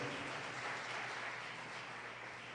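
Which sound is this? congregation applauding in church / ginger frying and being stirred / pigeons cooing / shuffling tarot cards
congregation applauding in church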